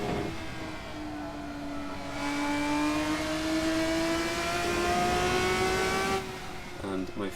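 A Praga-style RSS 3 V6 race car in Assetto Corsa sim racing at Red Bull Ring, its engine droning at a steady high pitch that climbs gradually then cuts at a gear change, loud and continuous, with faint talk alongside.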